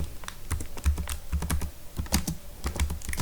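Typing on a computer keyboard, a fairly quiet run of quick, uneven key clicks with no voices over them.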